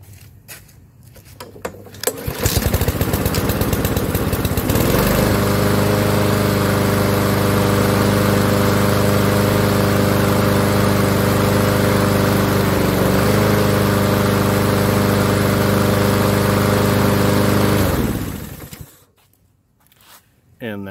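A Honda GCV160 lawnmower engine starts and runs steadily with the choke engaged, a loud, even mid-pitched drone held for about thirteen seconds before cutting off abruptly, with no talk over it.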